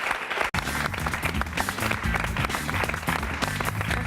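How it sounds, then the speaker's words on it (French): An audience applauds a guest on a French talk show, dense steady clapping carrying through with music or background tones underneath, briefly cut near the start. "À vos côtés, Laurent Brunto, qu'on applaudit."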